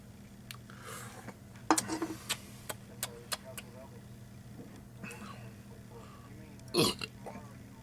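A short burp after drinking beer rises mid-clip, followed by a louder one near the end, amid quiet clicks and handling noises with a low engine hum behind.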